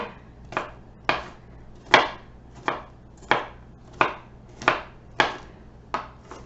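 Knife chopping onion on a cutting board for strawberry salsa, about a dozen sharp, evenly spaced chops at a steady, unhurried rhythm, close and fairly loud with no talking.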